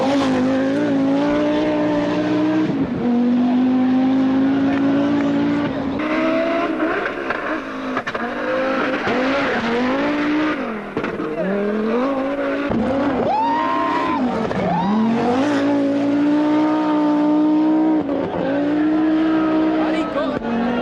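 An Audi S2 engine revs hard and loud throughout, its pitch climbing and falling in repeated sweeps with brief dips between pulls.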